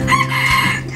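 A rooster crows close by, a drawn-out call with some clucking mixed in, against faint background noise.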